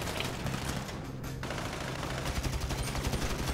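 Rapid bursts of gunfire in a story-mode shooting video game, a dense, continuous volley of shots with no talking over it.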